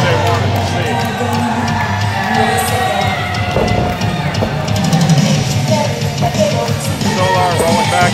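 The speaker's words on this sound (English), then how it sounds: "And this crowd is loving it." A wrestling crowd cheering and shouting after a championship match victory, a loud continuous roar of voices with whoops, heard under a commentator talking.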